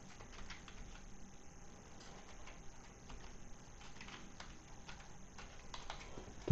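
Keys tapped on a keyboard while an IP address is entered, a quiet run of light, irregular clicks close by with no talking.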